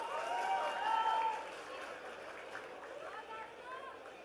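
Graduates' names being read at a School of Commerce convocation draw a steady wash of audience applause with crowd murmur, loudest at first and then slowly fading.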